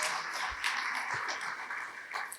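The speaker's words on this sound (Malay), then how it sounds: "berikan tepukan paling gemuruh kepada Yang Bahagia Ustaz" An audience at an Islamic religious talk and Q&A session gives a warm, steady round of applause for Ustaz Azhar Idrus, a dense patter that holds through its full length.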